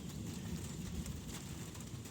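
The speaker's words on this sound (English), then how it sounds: "you can hear the rain on the roof right now." Rain falling on the roof of a Ford E350 camper van, a steady even patter that stays at the same level throughout, with no talking.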